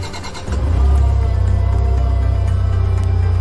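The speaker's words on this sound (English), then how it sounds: "When you turn on the key and start the engine" A Tailift forklift engine cranks briefly, then catches and settles into a steady, close, low idle rumble that holds to the end.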